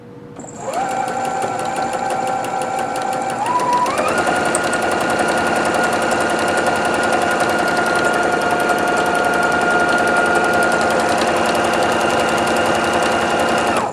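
Singer Futura Quintet sewing machine running after cleaning and oiling: a steady, even mechanical whir that starts up, steps up in speed, then holds at a constant close hum with no talk.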